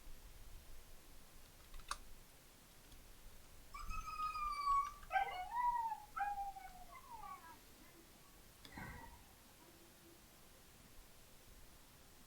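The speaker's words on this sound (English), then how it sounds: "I'm just really sad for the dogs." Dogs give a drawn-out whimpering howl with wavering, whining pitch, rising and falling for several seconds in the middle, preceded and followed by a few sharp clicks over quiet background noise.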